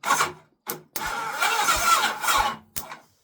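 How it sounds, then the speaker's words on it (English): A 1982 Kawasaki GPZ1100 motorcycle with a weak battery is cranked by bridging two posts to run the starter. It churns slowly in four bursts: two short stabs, one long grinding crank, then a final brief one, each separated by silence. "I'm just going to bridge these 2 posts and then the bike should turn over."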